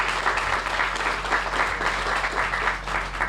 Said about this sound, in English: Can we have another round of applause for our champion,